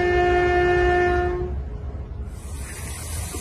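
A new train for Ghana's Tema-Mpakadan line, assembled in Poland, sounds a loud sustained multi-tone horn over deep rumbling, then the horn cuts off and the rail noise continues with a hiss.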